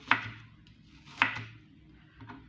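Knife chopping onion on a board for an oven chicken dish, three sharp close chops spaced about a second apart, the last one softer, over quiet kitchen background.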